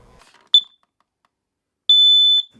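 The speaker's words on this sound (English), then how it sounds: "check your smoke detector" Two high-pitched electronic alarm beeps from a smoke detector: a short chirp, then after a pause a longer sustained tone, in an otherwise silent room.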